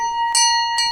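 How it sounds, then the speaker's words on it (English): A bell rings out twice aboard a ship at sea, two bright clear strikes with a sustained ringing tone between them, close and loud. "Oh, there goes the bell."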